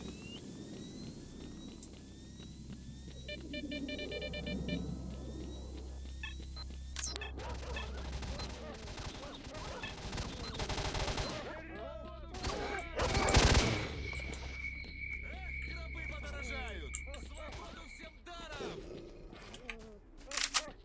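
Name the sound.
gunfire in S.T.A.L.K.E.R.: Shadow of Chernobyl video game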